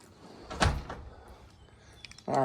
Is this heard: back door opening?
yes